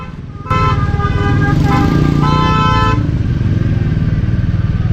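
Thick traffic in a jam in Kullu town, Himachal: a loud, steady motorcycle engine close by as a long, sustained horn blares for a couple of seconds, with more honking around it.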